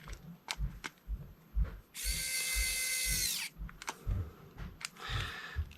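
Screws are being driven into a new V4.2.7 motherboard fitted to an Ender 3 Pro 3D printer, heard as a whining powered screwdriver burst of about a second and a half and a shorter one later, set among close clicks and handling knocks.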